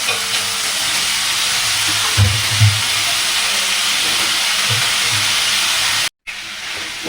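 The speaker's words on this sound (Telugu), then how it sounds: "ఆలుగడ్డ ఫ్రై." Potatoes fry in a pan with a steady close hiss, punctuated by a few soft low knocks of stirring, and the sound cuts out briefly before resuming.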